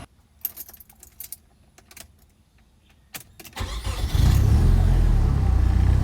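Quiet clicks and rattles, then a car engine with a recharged battery cranks and catches, settling into a loud, steady idle close by.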